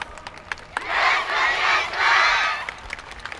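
A crowd at the YOSAKOI Soran Festival final stage in Sapporo yelling in two loud, sustained cheering swells, each about a second long, with scattered claps and shouts before and after.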